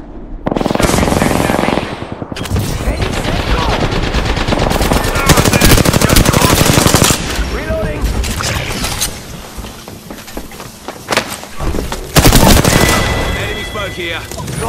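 Gunfire in the video game Apex Legends, with loud rapid automatic bursts and single shots in several volleys, plus mechanical weapon clatter between them.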